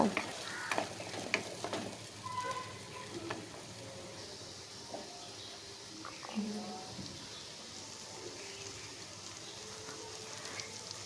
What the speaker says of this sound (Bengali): এখন যে বিনসের পেস্টটা এটা দিয়ে দিলাম বেশ নাড়াচাড়া করে একটু আমি এখন এটাকে ভেজে নেব